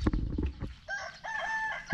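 A Chinese-breed rooster crows once, a clear drawn-out call after a few brief louder knocks and noises at the start, in a village setting in Kengtung.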